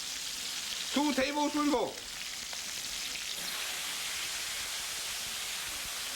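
Water poured into a hot wok holding crab hisses into a loud, broad sizzle, with a voice speaking briefly over the burst before the steady frying hiss continues.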